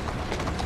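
Horse hooves in Assassin's Creed Syndicate clatter in a steady galloping rhythm, close and moderately loud over a constant game background, with no talk.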